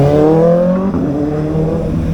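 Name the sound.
fast motorcycle passing by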